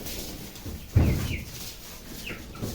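Chickens clucking close by during a flood being rescued, a sharp burst of squawking followed by softer clucks and rustling.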